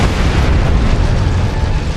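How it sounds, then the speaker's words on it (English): Detonated charges explode in a sci-fi game scene, a loud, dense continuous blast with rumbling low end sustained over two seconds, with no talk over it. "Detonating charges."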